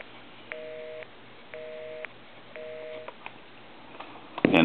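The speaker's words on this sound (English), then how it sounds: "It'll just be busy." Busy signal heard through a repaired Western Electric 302 rotary telephone, three evenly spaced beeps with pauses between, faint and near, followed by a clatter of handling at the end.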